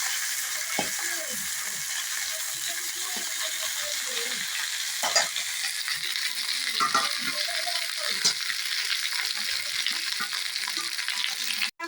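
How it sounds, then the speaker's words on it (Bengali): Fish, including snakehead, sizzling steadily in hot oil in a pan while being stirred, with irregular scraping and clinking of the utensil over a continuous frying hiss; no talking. "মা কিন্তু রান্না বসিয়ে দিয়েছিল, মাছগুলো নাড়বো"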